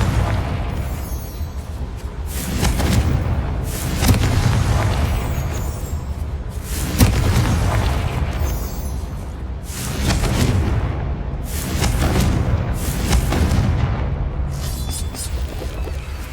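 Confringo spell blasts go off in the video game Hogwarts Legacy as a string of loud booming explosions at irregular intervals over a constant rumbling background, with no talking.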